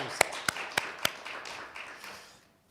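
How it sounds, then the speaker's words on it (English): Applause at a partnership board meeting for a transport body: four distinct, evenly spaced claps ring out close by, followed by a faint, brief patter that quickly fades to quiet. "Round of applause."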